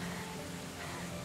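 Steady, soft rainfall in the medieval survival game Medieval Dynasty, a continuous even hiss with no distinct drops, heard alone.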